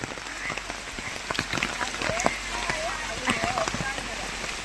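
Rain falls steadily on the path during a walk toward a waterfall, a dense patter with scattered drips and close taps, while voices talk over it.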